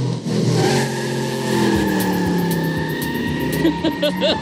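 Pocoyo's invisible cartoon car drives along with a revving, accelerating engine sound, steady and close, with playful squeaky effects near the end.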